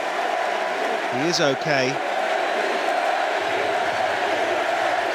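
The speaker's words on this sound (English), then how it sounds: "the crowd willing Eddie to his feet" A large crowd roars steadily at Eddie Hall's 500 kg deadlift world record, a sustained wash of cheering with a voice briefly speaking over it.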